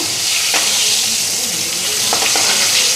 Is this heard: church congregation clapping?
no